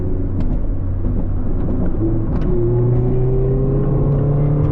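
A Mazda ND Miata pulls hard from 2,000 RPM in fifth gear while passing on the road, its loud steady engine drone rising slowly in pitch under constant road and wind rumble, heard from inside the cabin.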